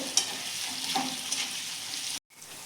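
Potatoes, onion and chillies being stirred in hot oil for batata poha, giving a steady close frying sizzle with a few light scraping touches of the spoon and a brief dropout near the end.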